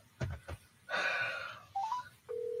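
A telephone call being dialed: a few short clicks, a burst of noisy tone, then rising dial beeps and a steady ringback tone, fairly close with no speech.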